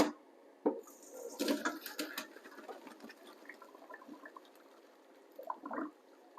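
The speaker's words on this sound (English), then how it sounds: "Cold water is going to be poured over them to cool them." Cold water splashes and trickles in short, faint bursts as it is poured over freshly blanched apples to cool them, with quiet pauses between pours.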